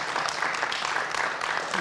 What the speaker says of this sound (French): Vous pouvez l'applaudir parce qu'il le mérite.